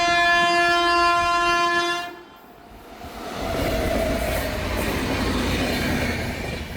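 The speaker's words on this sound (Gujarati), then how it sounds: "જો આપ રેલગાડી હાલી આવે છે" A loud, steady train horn blares for about two seconds, then gives way to the heavy rumble and clatter of a train rolling close by.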